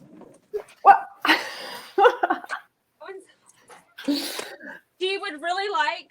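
A dog at a rented house in Maine gives several short yips and whimpers, mixed among people talking nearby, ending in a brief run of higher whining yelps.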